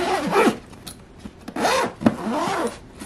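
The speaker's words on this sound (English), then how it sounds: "then I'm gonna zip up the hot logic" A Hot Logic Max food warmer bag being zipped shut, with several quick rasping zipper pulls in short bursts, close and fairly loud, no talking.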